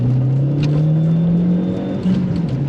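A car accelerates hard in second gear, its engine note climbing steadily in a loud continuous drone, then briefly dipping and picking up again as it keeps pulling.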